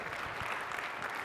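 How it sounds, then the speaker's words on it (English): Conference audience applauding at a digital asset summit on the New York main stage, a dense, loud, steady burst of many hands clapping together. "Give yourself a round of applause one more time."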